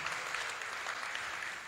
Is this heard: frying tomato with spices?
no